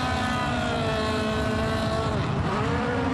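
Rallycross cars at the start of a World Rallycross round in Mettet, Belgium, hold high revs together in a loud, dense engine roar that holds steady throughout, with no speech over it.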